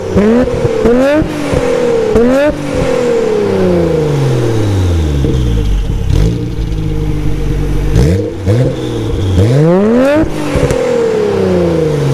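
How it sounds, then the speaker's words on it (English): Nissan R32 GT-R fitted with a Mines downpipe and HKS High Power exhaust, revved repeatedly from behind the car, each sharp loud climb and fall of the engine close up, with no talking. "I'm gonna set the camera down right behind the car, do some revs so you guys can hear how it sounds."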